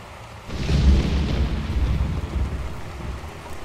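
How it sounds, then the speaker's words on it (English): In the video game Dark Souls 2, heavy rain pours down and a deep roll of thunder rises after a quiet opening, then settles into a sustained rumbling downpour with no voices. "Raining."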